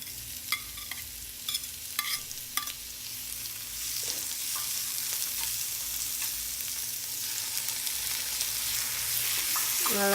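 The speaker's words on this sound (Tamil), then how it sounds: "நல்லா சாட்டே பண்ணிக்கோங்க." Chana masala ingredients sizzle steadily with salt in a hot pan, stirred with a few sharp scrapes and clinks of a spoon early on, the frying hiss close and continuous, growing fuller toward the end, with no talking.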